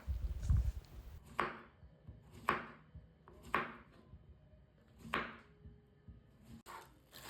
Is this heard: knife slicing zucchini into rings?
yes